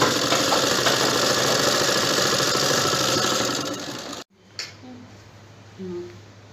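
A sewing machine stitches around a circular palazzo hem, running steady and loud for about four seconds before it cuts out abruptly, followed by quieter handling noises.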